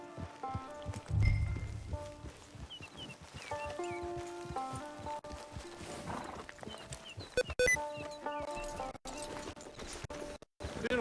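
Horse hooves clip-clop in a steady rhythm in the video game Red Dead Redemption II, moderately loud beneath orchestral music and someone speaking.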